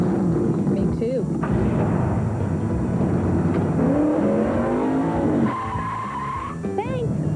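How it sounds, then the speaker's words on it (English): A NASCAR race car in a commercial for Exide NASCAR Select batteries fires up and roars with loud engine revving and tire squeal, then quiets. Voices talk during the sequence. "I start my engine with a powerful Exide NASCAR Select battery."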